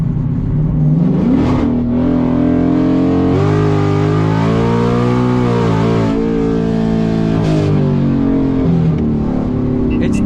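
A car fitted with a 15-inch drag pack launches in third gear with its tires spinning, the engine rising loudly and steadily in pitch while it shifts and keeps revving close by, with no talk over it.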